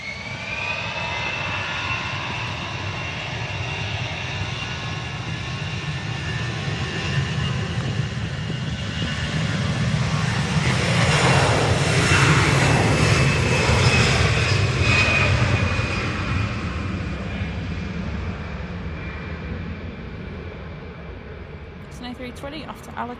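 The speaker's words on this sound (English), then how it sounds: "A320 off to Alicante." An Airbus A320 departs Manchester Airport for Alicante, its jet engines rumbling and whining as they build to a louder pass in the middle and then fade into the distance.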